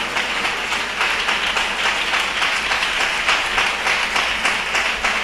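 A church congregation claps together during a Tamil Christian sermon, a dense, steady wash of many hands filling the room at close range without a break.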